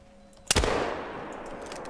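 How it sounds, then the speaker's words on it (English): A single rifle shot at a moose in the hunting video game theHunter: Call of the Wild cracks sharply and loudly, then rolls into a long fading echo. "Oh, might as well shoot this moose."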